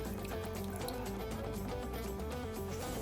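Water is poured in a steady continuous stream onto washed sago pearls in a vessel for making sago potato papad, a full liquid rush throughout.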